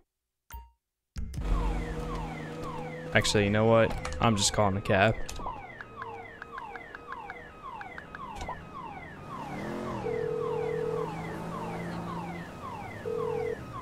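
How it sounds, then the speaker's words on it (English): Car alarm on a parked Futo in Grand Theft Auto V blares in a looping, warbling siren-like pattern of repeated tones, loud and close, with a person talking briefly over it. "And somehow this car has an alarm on it."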